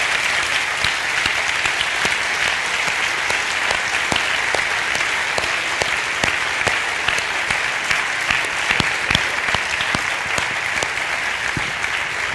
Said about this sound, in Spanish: a los que pido un fuerte aplauso porque se han dejado la piel.